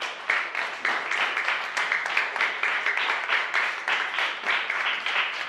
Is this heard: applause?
yes